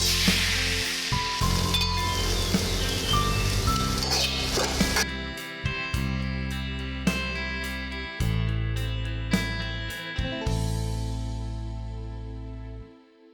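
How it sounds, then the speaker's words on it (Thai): Preserved radish stir-fries in about a spoonful of hot oil with a steady sizzle and intermittent clinks of the utensil, all under a continuous music bed. "ใช้น้ำมันประมาณหนึ่งช้อนนะครับ แล้วก็ลงผัดเลยนะครับ แบบนี้ลงไปเลย"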